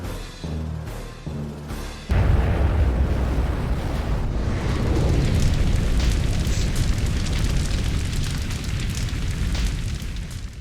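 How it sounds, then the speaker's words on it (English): A rocket launch roars in as a loud, sustained broadband rumble that erupts suddenly after a brief earlier burst and holds steady to the end with no talk. "the rocket was going up in about 3 seconds"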